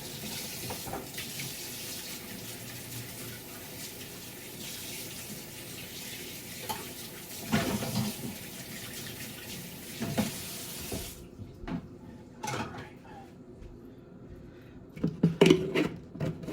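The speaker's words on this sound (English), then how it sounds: "Let's wash my hands." Hands washed under a running kitchen sink tap, a steady hiss of flowing water for about eleven seconds, then the flow stops and wet splashes and rubbing follow intermittently, close and alone.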